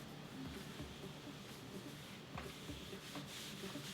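Self-tanner rubbed onto an arm with the velvet side of a tanning glove, a close, steady soft rubbing with long back-and-forth strokes and no pauses.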